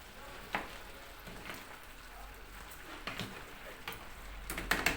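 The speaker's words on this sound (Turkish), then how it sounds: "Patates şimdi kaynamaya başladı." Potatoes fry in a pan, giving a soft, steady sizzle with occasional clicks and scrapes of stirring, fairly quiet and without talk.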